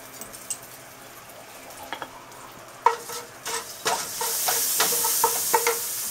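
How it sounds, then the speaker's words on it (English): Cumin seeds and asafoetida go into a teaspoon of hot oil and start a crackling sizzle that builds from quiet to steady, with a series of sharp clicks and pops from a spoon stirring against the pan. "So now our oil is pretty much heated up. I added just 1 teaspoon oil. And to that, I'm going to add my cumin seed and the asafoetida."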